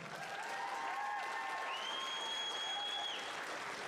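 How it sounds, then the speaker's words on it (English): A crowd at an amateur fight event applauds the two fighters, a steady wash of clapping heard faintly from a distance with some whistling tones rising above it. "Give a warm round of applause for your two fighters."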